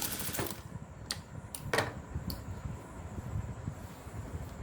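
A sewing machine runs steadily while stitching a folded hem on a boat neck blouse, a low continuous rattle with a few sharp clicks and ticks on top, close by, with no voices.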